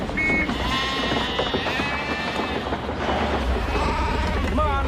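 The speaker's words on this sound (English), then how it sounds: "What the hell are these sheep doing here?" Sheep bleat repeatedly, close and loud, over steady wind and a low background rumble, with a voice speaking among them.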